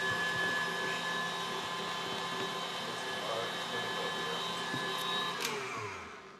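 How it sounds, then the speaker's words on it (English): Raisins are run through an electric food grinder that gives a steady, close motor whine with a constant hum, slight rough grinding texture and a couple of small clicks before it winds down at the end. "I'm just going to let this grind for a minute and get the last of those raisins through."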